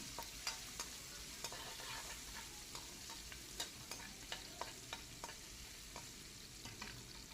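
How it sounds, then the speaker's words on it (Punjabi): Chopped garlic and ginger fry in hot oil in a pan, giving a steady close sizzle with scattered crackles and occasional stirring scrapes throughout, with no talk. "ਲਸਣ ਤੋਂ ਬਾਅਦ ਅਸੀਂ ਪਾਵਾਂਗੇ ਅਦਰਕ 2 ਮਿੰਟ ਲਈ ਭੁੰਨ ਲਾਂਗੇ ਇਹਨਾਂ ਨੂੰ"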